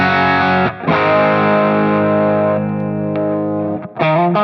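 Distorted electric guitar chords through a Source Audio Ventris reverb pedal in stereo after a Helix amp and cab block ring out loud and close, with a short, roomy ambient tail under each sustained strum.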